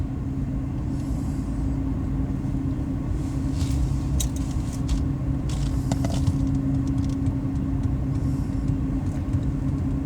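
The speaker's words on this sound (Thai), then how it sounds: "ตอนนี้รถยนต์นะคะ รถยนต์ส่วนบุคคลนะคะ ก็เคลื่อนตัวนะคะ" Private cars rolling off a ferry at the Öregrund landing after the crossing from Gräsö island, a steady low engine rumble with passing vehicle noise and faint higher clatter throughout.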